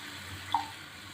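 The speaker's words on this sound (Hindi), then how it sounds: "और थोड़ा सा मैं इसमें पानी डालूँगी, हाफ का पानी का।" Water is poured into a pan of onions and chicken cooking in olive oil, making a brief, soft, steady hiss with a small splash midway, heard close up.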